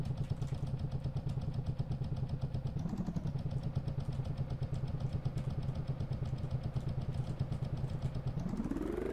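A motorcycle engine in the mobile game Cafe Racer hums steadily and loudly throughout, with a brief dip and surge near the three-second mark and a rising rev at the end, with no talk over it.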